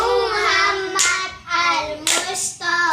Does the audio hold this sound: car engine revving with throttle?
no